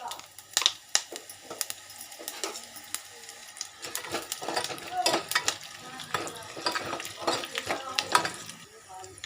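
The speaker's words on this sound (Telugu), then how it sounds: "కొద్దిగా మెంతులు ఆవాలు అలాగే ధనియాలు వేసుకొని వేయించుకోవాలి" Fenugreek, mustard and coriander seeds crackle and sizzle in hot oil, with frequent sharp pops and spatters and scraping stir strokes, moderately close and fairly busy throughout.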